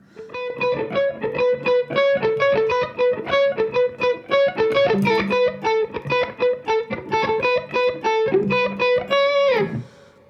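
A distorted Citizen Guitars model CT electric guitar plays a fast lead line of repeated picked notes, steady and close, ending with a downward bend.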